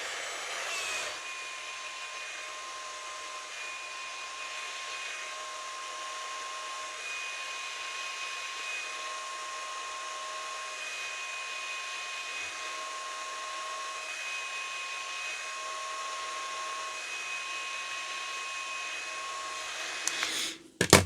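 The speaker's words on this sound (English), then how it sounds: "I'm gonna use my fan just to dry that." A small electric fan blows steadily to dry makeup, an even close-up whirring hiss with a faint motor whine that runs unbroken for about twenty seconds before clicking off.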